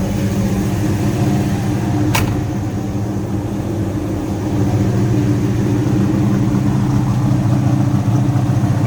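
A 1969 Dodge Charger with a built 383 V8 idling slightly high while it warms up, a steady, loud, throbbing rumble that runs alone and unbroken from start to finish.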